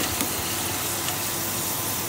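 Arbi (taro root) slices frying in hot oil, a steady close sizzle with a constant hiss and no talk.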